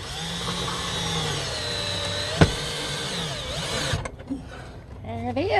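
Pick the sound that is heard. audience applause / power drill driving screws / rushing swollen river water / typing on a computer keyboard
power drill driving screws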